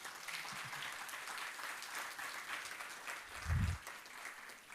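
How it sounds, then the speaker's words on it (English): Audience applause in a lecture hall at a National Science Day event, a steady dense patter of many hands clapping throughout, with a brief low thump near the end. "A big round of applause once again,"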